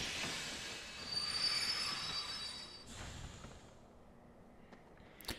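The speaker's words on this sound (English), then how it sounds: "The train will be arriving shortly." A video game train from Kingdom Hearts II pulls into a station, wheels squealing in a high metallic whine over a rolling rumble that fades to quiet, ending with a short clank.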